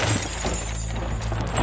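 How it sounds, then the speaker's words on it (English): A car crashes into a tree, rendered as a sharp burst of shattering glass and breaking debris up front, followed by a rumbling crunch that trails off, loud and close, with no voices. "lost control of the car and ended up crashing into a tree"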